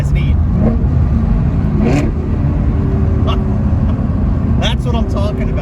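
A car fitted with a Corsa Extreme Plus catback exhaust revs hard, its deep exhaust note droning steadily with a few sharp rises and pops, loud and close throughout.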